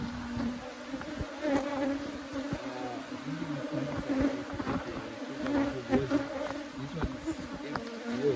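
Honey bees swarming around an open hive during a honey harvest, a continuous dense buzzing drone with individual bees flying close past, steady and moderately loud with no talk.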